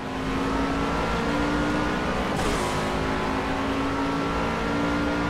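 Toyota GT86 Rocket Bunny race car engine accelerating in Project CARS at Dubai, a loud sustained buzzing drone with steady harmonics and a brief whoosh mid-way, continuous and close.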